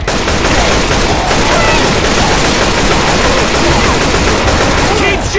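Dense, continuous automatic gunfire from Left 4 Dead 2 during the Dead Center atrium escape, loud and sustained for the whole stretch with overlapping bursts of shots.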